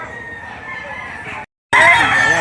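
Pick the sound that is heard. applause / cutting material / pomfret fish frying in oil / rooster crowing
rooster crowing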